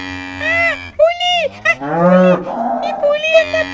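A cartoon leopard moos like a cow in a children's animated show. A few close, drawn-out lowing calls follow one another, clear and prominent, with no talk over them.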